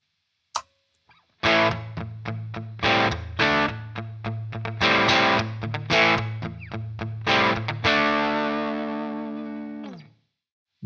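An Enya NOVA GO SONIC Les Paul-style electric guitar, heard through its built-in speaker on the overdrive setting, plays a gritty, punchy riff of rhythmic chugging chords, then a final chord left ringing as it slowly decays to silence.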